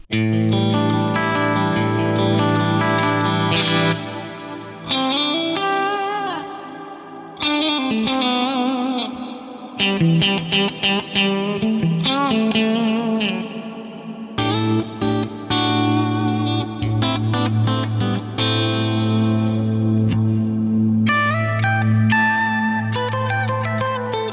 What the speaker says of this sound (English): Big old ambience on that one.